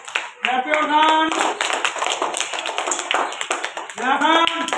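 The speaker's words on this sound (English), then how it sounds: "Very good. Clap your hand." A class of schoolchildren applauds reading competition winners with quick, scattered handclaps, while an adult voice and children's voices speak over the clapping at the start and again near the end.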